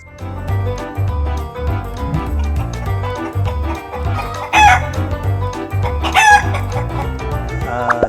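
Tanaosri chickens, a Thai breed, cluck continuously up close, while roosters let out two loud, drawn-out crows over the steady chatter of the flock.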